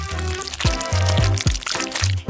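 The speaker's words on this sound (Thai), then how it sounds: "จากนั้นเทน้ำมันเล็กน้อยใส่กระทะ" Oil pours into a frying pan in short repeated bursts, close by, over a steady low tonal hum with sharp sweeping tones between pours.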